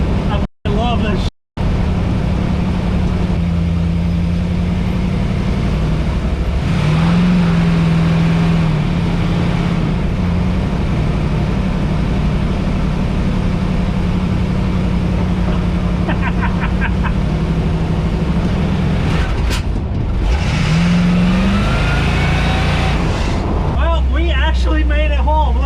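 Supercharged 1952 Mercury car engine running loud and steady while driving, a continuous low rumble with revving swells near the end, with voices talking over it.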